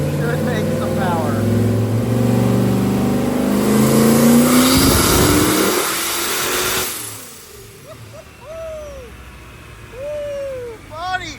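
The Rotsun, a Roadkill car with a new engine, makes a full 4th-gear dyno pull: a loud, rising engine roar that climbs for several seconds, then cuts off, followed by excited voices and a few short whoops.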